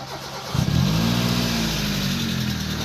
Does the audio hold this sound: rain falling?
no